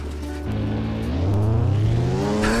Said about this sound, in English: Gonna be scooting around on a snowmobile